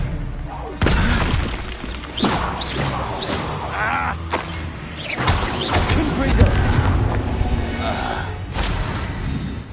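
A spell is cast in the Hogwarts Legacy video game, with loud crashing magical blasts, booms and shattering impacts over several seconds, and voices heard amid the effects.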